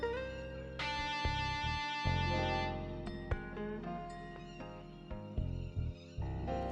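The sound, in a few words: electric lead guitar sample, R&R chunk in Xenology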